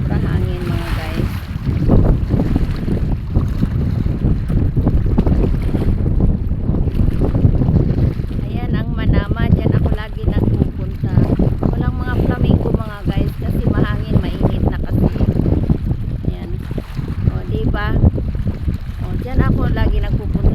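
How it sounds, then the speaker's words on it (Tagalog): Strong wind buffets the microphone with a constant heavy roar at the seashore during high tide in Bahrain, while someone talks through it and waves wash nearby. "Sobrang lakas ng hangin mga guys."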